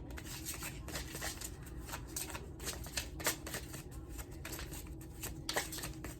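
Egyptian God oracle cards being shuffled by hand, a steady papery riffling and slapping that runs throughout with soft irregular bursts, close and fairly quiet, no voices.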